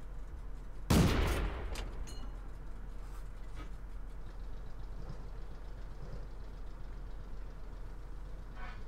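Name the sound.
tank gun blind shots in World of Tanks video game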